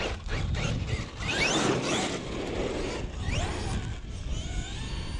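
A Traxxas XRT 8s RC truck pulls away on its first throttle run, giving a whining motor and drivetrain buzz with rising sweeps that settle into a steady hum. It is fairly quiet and heard alone for about five seconds.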